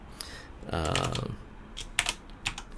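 Computer keyboard typing during a programming lecture, with rapid clicky keystroke bursts and a short pause between them. A voice is heard briefly alongside the keys, and a low hum sits under everything.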